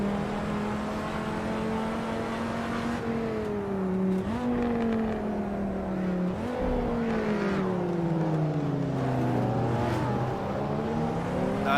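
A V10 racing car engine in the Assetto Corsa video game, including a BMW M5, revs hard and continuously, its pitch climbing and dropping through gear changes with brief dips, loud and close throughout with no talking.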